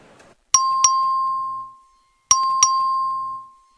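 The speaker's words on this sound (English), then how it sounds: "Clerk, ring the bell." A House chamber voting bell rung by the clerk gives a clear, loud two-tone electronic chime, sounding twice with a ringing tail after each and silence between.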